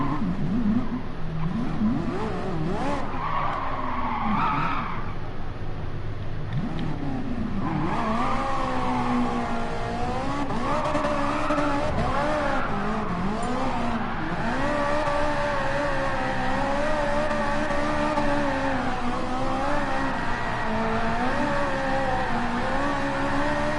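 Cars drifting around a small, easy track in a racing game, with engine notes revving and sweeping up and down continuously under steady loud play and faint tire squeal.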